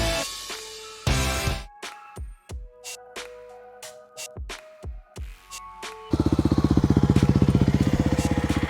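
Kawasaki KLX 300R dirt bike engine: a series of short revs and sharp throttle blips, then a steady, loud, close idle with an even pulsing rhythm.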